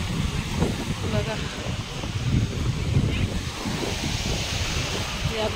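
Ocean surf at a crowded Mumbai beach in the early afternoon gives a steady, loud roar of breaking waves, with wind buffeting the microphone throughout.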